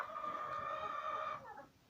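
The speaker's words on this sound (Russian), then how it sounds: "Гуси." Domestic geese in a farmyard shed on a stormy night give one drawn-out, harmonic honking call, close and fairly loud, that breaks off and trails away after about a second and a half.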